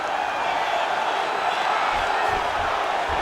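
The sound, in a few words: crowd cheering in video game EA Sports UFC 5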